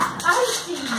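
A dog whimpers at a door in a brief, close, high whine that bends up and down. Background sounds run beneath it.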